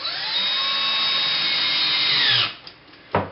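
A power drill whirs steadily, driving a fastener into a board holder, then winds down and stops, followed by a couple of short knocks and a brief rattle.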